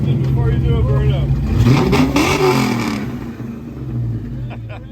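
Ford Mustang engine revving at a car-parts trade conference, a loud throaty rev that climbs and then falls back to a rumbling idle, with people talking over it.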